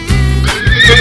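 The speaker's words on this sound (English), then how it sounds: "Zebra." A zebra calls with loud, close, horse-like braying whinnies in two or three strained bursts, heard alone with no talk.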